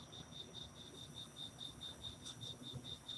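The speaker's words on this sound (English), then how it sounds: "the sound of the crickets." Steady, rhythmic cricket chirps pulse at an even pace against a quiet night background, fairly close and continuous throughout.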